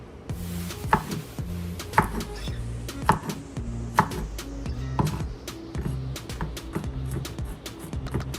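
Knife chopping garlic on a cutting board for bibimbap, a steady series of sharp close taps about once a second over a low background hum.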